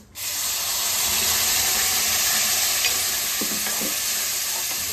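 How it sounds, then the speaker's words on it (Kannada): Ground coconut milk is poured into avalakki frying in a pan, setting off a loud, continuous hiss and sizzle, with faint stirring scrapes partway through. "ಈಗ ಇದಕ್ಕೆ ನಾನು ರುಬ್ಕೊಂಡಿರೋಂತಹ ತೆಂಗಿನಕಾಯಿ ರಸ ಏನಿದೆ ತೆಂಗಿನಕಾಯಿ ರಸ ಹಾಕ್ತಾಯಿದ್ದೀನಿ ನೋಡಿ"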